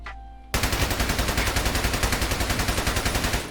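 Sustained automatic gunfire from a rifle in Escape from Tarkov, a steady rapid string of loud close shots lasting about three seconds after a brief quiet start.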